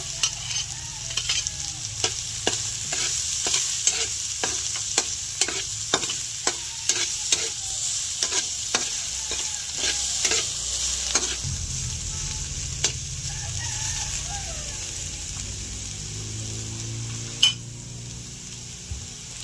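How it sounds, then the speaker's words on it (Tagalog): Garlic, onion and ginger sauté in a pan, a steady sizzle under a run of regular scraping stirs from a spoon, clattering against the pan for the first half before the frying settles into a quieter hiss. "bawang, sibuyas, at saka po itong luya. Atin na pong igigisa."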